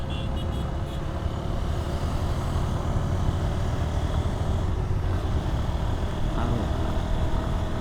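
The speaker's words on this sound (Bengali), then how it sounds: "আজকেও কম দেখা যাচ্ছে না, ভালো জ্যাম দেখা যাচ্ছে।" Steady roar of a road traffic jam heard while riding a Honda Hornet 2.0 motorcycle, with continuous engine and vehicle rumble, unbroken and fairly loud throughout.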